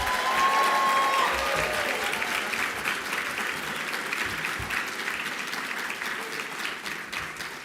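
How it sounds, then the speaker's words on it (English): A reception crowd at an irvine leadership awards event breaks into applause, thick continuous clapping that stays loud throughout and tapers slightly toward the end, with faint cheering mixed in. "let's give a big round of applause and a shout out for all the winners this year"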